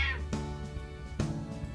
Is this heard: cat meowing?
yes